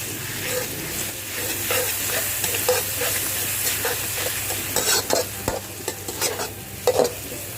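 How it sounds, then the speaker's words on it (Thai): Chili and garlic stir-fried in a pan for a catfish pad cha dish, with a steady loud sizzle and repeated scraping, clattering stirs throughout, no voices. "ผัดให้พริกกระเทียมหอมฉุนค่ะ"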